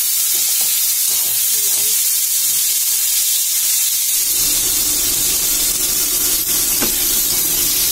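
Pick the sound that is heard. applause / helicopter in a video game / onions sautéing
onions sautéing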